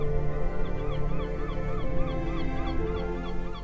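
A flock of geese honks repeatedly and loudly close by, overlapping calls in a steady chattering rhythm, with no voices over them.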